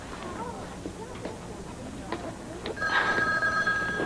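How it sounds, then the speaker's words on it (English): A telephone rings in a 1992 One Life To Live soap opera scene, a bright electronic trill that begins near the end of the clip after a stretch of quiet room sounds and soft knocks. "I gotta get the phone."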